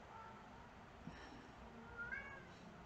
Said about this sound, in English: I need my cats to stop fighting.